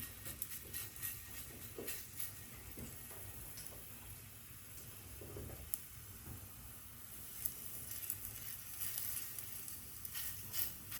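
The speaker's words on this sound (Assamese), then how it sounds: "এইটো পিঠাৰ নিচিনা কৰি অকণমান মিঠাতেলত ফ্ৰাই কৰি দিম" Pitha batter made from sweet potato and flour fries in a little mustard oil, a steady soft sizzle with scattered small pops and crackles, close and alone without talk.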